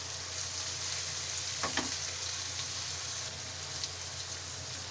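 Crushed ginger and garlic drop into hot oil in a kitchen pan, giving a steady close sizzle and crackle with a couple of brief clatters, no voices over it.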